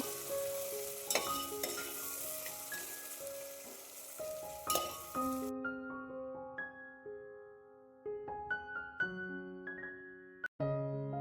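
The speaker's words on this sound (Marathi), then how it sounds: "आता हा कांदा हलकासा गुलाबी रंग येईपर्यंत तेलामध्ये छान परतवून घ्यायचा." Sliced onion sautés in oil with a bright sizzle and stirring for the first half under melodic background music, then the music carries on alone.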